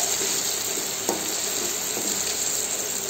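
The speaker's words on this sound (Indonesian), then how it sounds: "Ini kita tumis" Steady hissing sizzle of food frying in a pan, continuous and fairly loud with small crackles, no voices.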